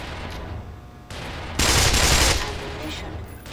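Rapid gunfire bursts in the first-person shooter Black Mesa, with a loud sustained volley in the middle of the stretch and quieter shots before and after it.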